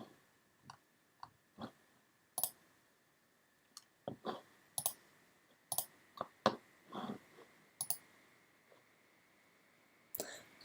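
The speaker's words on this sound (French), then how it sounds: "Donc je clique simplement sur Ajouter." Sharp, isolated clicks of a computer mouse sound one at a time at irregular intervals, quiet and close, with near-silence between them and no talking.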